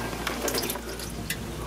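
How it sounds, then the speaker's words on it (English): Transmission fluid drains and trickles from a loosened Silverado 6L80E transmission pan in a short, close stream of liquid pouring with light splashing. "There's three bolts left, and as you can see, it started to drain a little bit out."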